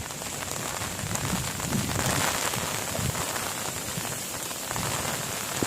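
Steady rain pattering on a surface, a continuous hissing downpour with scattered drops, close and even throughout, no talking.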